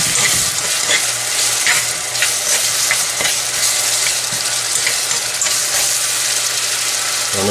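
Seasoning fries and is stirred in a pot for jollof rice, giving a loud, steady sizzle throughout with occasional scraping stirs and a constant low hum underneath.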